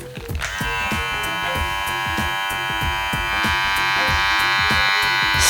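A Kemei 1579 hair clipper starts up and runs steadily during an RPM test, producing a loud, close, continuous electric buzz with a fast rattling pulse that holds for several seconds without talking.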